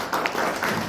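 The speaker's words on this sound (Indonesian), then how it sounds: "Tepuk tangan buat panjenengan semuanya lagi" A seminar audience applauds with a brief burst of scattered, close hand claps lasting about a second.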